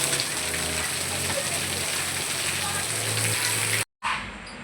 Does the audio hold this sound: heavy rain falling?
yes